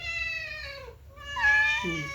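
A cat meows twice, close by: a drawn-out cry, a short pause, then a louder, higher second meow.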